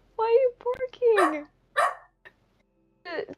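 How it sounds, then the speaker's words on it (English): A dog in the Minecraft video game barks and yips several times in short, sharp bursts with brief gaps between them, fairly close and clear against near silence. "She's barking!"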